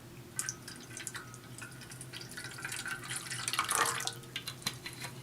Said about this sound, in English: And then some red wine vinegar, about 1/3 of a cup.